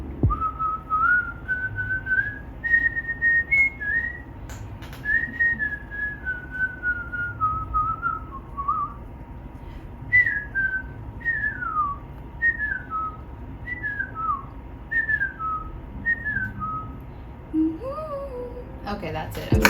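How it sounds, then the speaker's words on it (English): A person whistles a song solo, a clear melodic line of sustained and sliding notes in phrases with short breaths between them, close and fairly soft against a quiet room. "can you please whistle us a song?"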